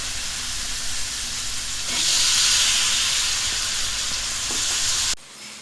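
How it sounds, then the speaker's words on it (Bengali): Chicken pieces sizzle and fry in hot spice paste and oil for a Bengali chicken and new potato curry; a steady hiss swells louder partway through, then cuts off abruptly near the end. "মশলার গা থেকে তেল বেরিয়ে আসার পর আমি এখন মাংসটি ঢেলে দিলাম।"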